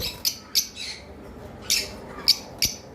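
Lovebirds of a breeding pair give five sharp, bright squawks and chirps spaced irregularly across a few seconds, fairly close, with no talk.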